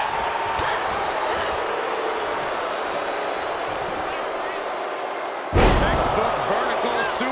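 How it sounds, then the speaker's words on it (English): A vertical suplex in the wrestling game WWE 2K23 ends in a heavy body slam onto the mat, a sudden loud thud near the end following steady arena crowd noise and commentary. "Textbook vertical suplex."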